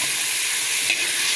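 Tomatoes, garlic and chili sauté in a hot pan, giving a steady, close, even sizzle and hiss with faint stirring and no talk throughout.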